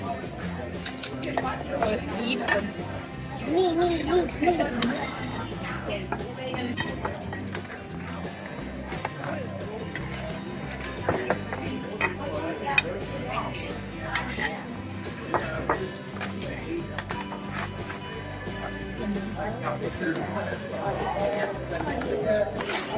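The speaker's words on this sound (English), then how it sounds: "I want to show you the waiter serving our deep dish. The sounds were amazing." A waiter serving deep dish pizza in a busy Lou Malnati's Pizzeria restaurant near Wrigley, with clattering dishes and cutlery, plates set down, and steady chatter and voices talking throughout.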